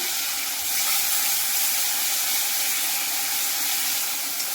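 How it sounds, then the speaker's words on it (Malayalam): Ground chili and salt paste sizzling loudly and steadily in a hot pan while being stirred, a dense close hiss that holds without a break. "മുളകും ഉപ്പും കൂടി അരച്ച പേസ്റ്റ് അതിലേക്ക് നമ്മൾ ഇട്ട് കൊടുത്തു ഇനി നന്നായിട്ട് ഇളക്കി കൊടുക്കാം"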